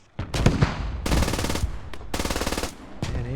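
An MG3 machine gun in a military shooter video game fires in several loud, rapid bursts of close, rattling shots separated by short pauses, with no speech.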